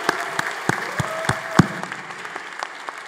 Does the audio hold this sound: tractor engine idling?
no